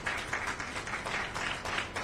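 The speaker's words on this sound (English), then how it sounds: "If we can give him a round of applause." An audience at a screening and panel event about the Tulsa Race Massacre claps steadily in a round of applause, fairly faint and distant, with no talk over it.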